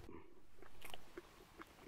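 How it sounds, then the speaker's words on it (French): Crusty bread is chewed close up in a series of crisp, irregular crunching bites, each one short and sharp, with no talking over it. "avec un bon bout de pain. Mmh. Bien croustillant."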